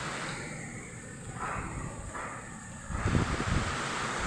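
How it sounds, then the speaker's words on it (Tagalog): Steady wind roars and buffets the microphone, with gusts swelling partway through and a louder rushing burst near the end; no talking. "Lakas ng hangin oh."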